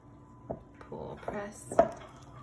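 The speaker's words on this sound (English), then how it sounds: "I'm just gonna pull and press in the center, turn the bowl, pull, press" Sticky, wet sourdough dough being pulled, pressed and folded in a bowl that is turned between pulls, giving soft, faint, intermittent squelches and light bowl knocks with one sharper clack.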